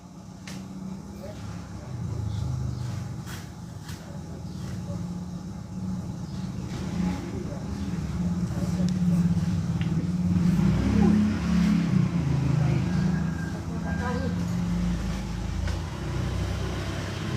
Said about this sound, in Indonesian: Mobil sampah.